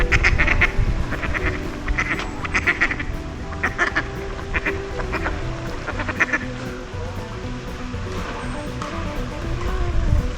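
Mallard ducks quack repeatedly in a city park on an island by a walkway, bursts of fairly close calls overlapping throughout over steady outdoor ambience and lapping water.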